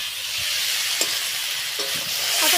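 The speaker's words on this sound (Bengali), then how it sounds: "এই দেখো এইদিকে মাসি রান্না করছে মাছের ঝোল" Fish curry cooks in a pan with a steady, close hiss and sizzle, and a few faint clinks and bubbling pops sound over the constant frying noise.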